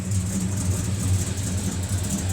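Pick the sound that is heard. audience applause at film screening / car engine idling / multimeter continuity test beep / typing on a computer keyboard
car engine idling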